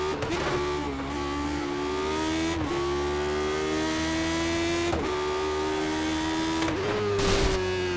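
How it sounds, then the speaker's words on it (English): A Skip Barber race car engine in iRacing revs high and holds, its pitch dipping briefly at several shifts or cuts, loud and close with no talk over it. "I would imagine this car is going to let us blow the engine. Let's give it a shot there"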